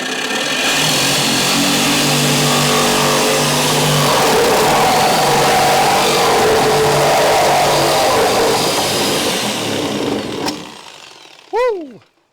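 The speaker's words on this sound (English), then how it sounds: "let's get at it with the reciprocating saw" A reciprocating saw rasps loudly and continuously through the trunk floor metal of a crew cab Charger under restoration, a harsh buzzing cut that runs for about ten seconds before stopping abruptly, followed by a brief faint tone.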